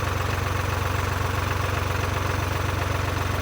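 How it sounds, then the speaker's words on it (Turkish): Tümosan 5275 L garden tractor engine running steadily under heavy load in first gear, a loud, close, continuous low diesel throb with a regular pulsing rhythm and no talking. "şu an traktör durmuyor gidiyor"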